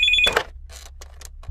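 A landline telephone at home gives a short, bright electronic ring, followed by a few faint chirps and clicks in a quiet room.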